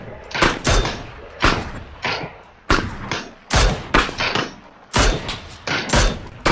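Rifle fire in PUBG aimed at a car: about eight loud, booming shots spaced irregularly, each with a short echoing tail, close and forceful, with a voice faintly mixed in.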